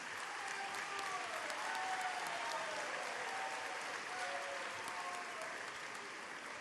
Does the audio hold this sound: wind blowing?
no